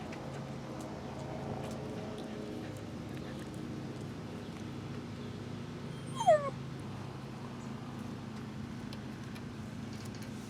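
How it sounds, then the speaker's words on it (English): A puppy indoors gives a single short, rising whimpering yip partway through, faint against a low steady background hum. "the puppy's awake"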